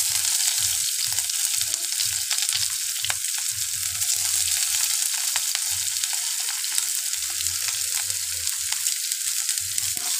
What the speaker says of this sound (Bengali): পেঁয়াজগুলো খুব লাল লাল করে ভেজে নেব।